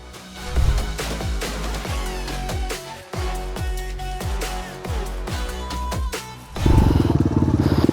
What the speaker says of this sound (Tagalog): Ang hina ng motor. Ayaw pumawer eh.